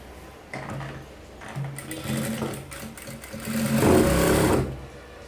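A sewing machine stitches along folded cloth, its motor whirring up from a quiet start to a louder, steady run before easing off, close and without talk.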